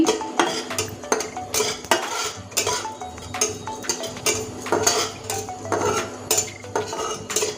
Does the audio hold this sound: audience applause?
no